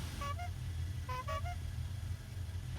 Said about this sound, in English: Well, the horn is still the same.